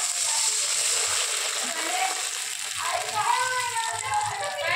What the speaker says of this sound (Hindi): देखिए अच्छे से भून चुका है, इसमें पानी ऐड करेंगे